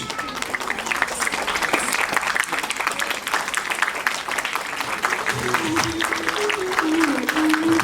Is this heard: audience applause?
yes